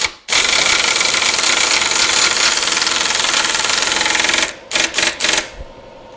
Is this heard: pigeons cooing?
no